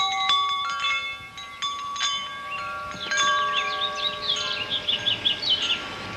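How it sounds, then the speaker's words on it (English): A backyard wind chime rings outdoors in scattered, overlapping metallic tones that hang and fade. Breezy wind noise runs underneath, and birds chirp in a fluttering run near the end. "And this is my wind chime. You want to listen at it? It makes some pretty good noise sometimes."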